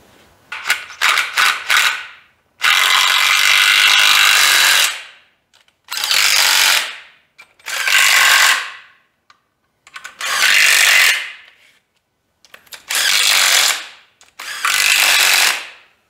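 A power tool rattles bolts tight on an engine mount during a 1985 C30 diesel-to-gas motor swap, sounding as loud, close bursts of two or three seconds each, separated by silences, with some quick ratcheting taps at the start.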